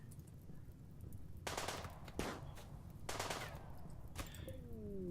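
Bursts of automatic gunfire in the video game RimWorld, several rapid volleys separated by short gaps at moderate loudness, with no voices.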